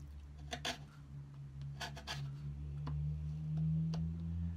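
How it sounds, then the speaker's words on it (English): Sharp chisel paring wood on an antique writing slope, a few short scraping strokes over a steady low mechanical hum, close and fairly quiet. "I'm just taking the chisel and very slowly taking the top off that"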